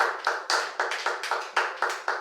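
A church congregation claps together in a steady, fast rhythm, about four sharp claps per second, loud and close, with no talking over it.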